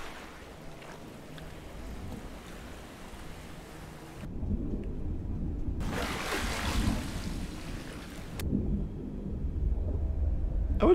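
Thunder rumbles in a video game scene set underwater, a deep, muffled, continuous roar that swells and lingers with no voices.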